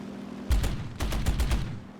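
Aircraft guns firing in War Thunder, from a J2M2 Raiden fighter battle: two rapid bursts of cannon and machine-gun fire, each about half a second, loud and close with no talk.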